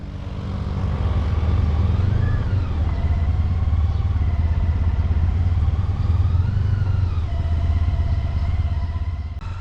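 Motorcycle riding through traffic in southern Spain, with a steady, close engine drone and rising and falling whine as the bike shifts through gears, loud and continuous throughout.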